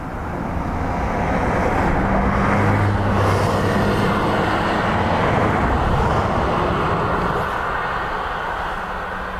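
An aircraft landing on runway 28 left at Dublin Airport gives a broad, steady roar that swells and holds, distant yet loud, with a low engine drone and wind-like rush throughout.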